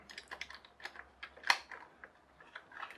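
Turning the wheels of an HL Toys RC bulldozer power scraper by hand makes a loose 3D-printed gear click: a quiet, irregular series of light ticks, close up, with one sharper snap midway.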